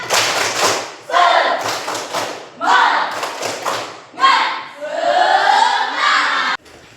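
A classroom of students doing a rhythmic enthusiasm clap, several bursts of group clapping and chanting voices in quick succession, close and loud, separated by brief pauses, ending abruptly.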